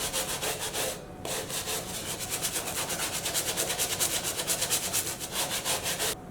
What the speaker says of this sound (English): so I'm really just scrubbing